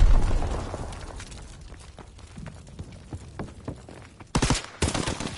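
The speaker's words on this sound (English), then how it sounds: "Throw and stick a grenade." In a WW2 shooter, a heavy boom opens the clip and decays slowly, scattered gunshots and clatter follow, then two sharp, loud bursts land near the end.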